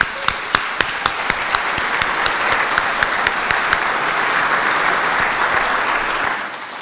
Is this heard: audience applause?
yes